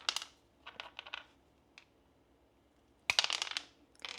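Jolly Rancher hard candies are cut into pieces with cutters, heard as quick clusters of sharp cracks and clicks close up, two bursts separated by a quiet pause.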